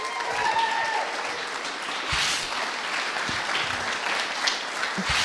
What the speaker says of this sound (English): Big round of applause for Jess, please.